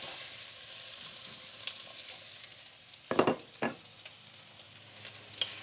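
Fish added to a hot pan with vegetables for a fisherman stew, a constant soft sizzle broken by a couple of sharp louder crackles and stirring scrapes, no talking.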